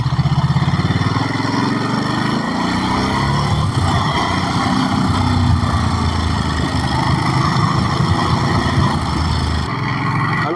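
Ducati Monster SP 950 motorcycle engine running steadily in second gear while riding, a loud continuous low rumble with little variation, close to the machine throughout.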